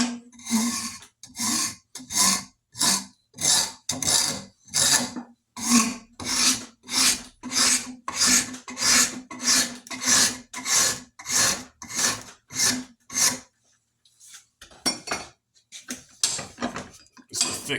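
Steady rhythmic strokes of a hoof rasp filing a thick wooden axe handle, about twenty-five close, scraping passes in a regular back-and-forth rhythm, with a short pause near the end before the strokes resume.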